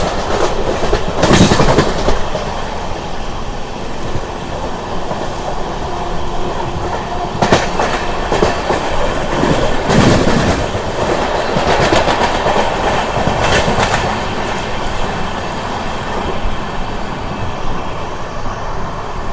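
Amrit Bharat Express on its inaugural Jogbani to Erode run, rolling past Dwarka Junction without stopping: a steady, loud rail rumble with clickety-clack wheel beats and occasional sharper rattles, no talk.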